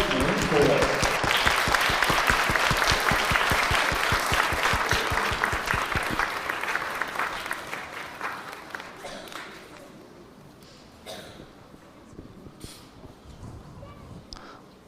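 An audience applauds veterans at a school event: loud, dense clapping fills the first six seconds, then thins and fades into scattered claps and faint voices.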